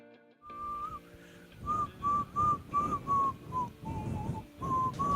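A person whistles a melody in a clear run of sustained and gliding notes that rises and falls in short phrases, close and fairly loud, with no talking.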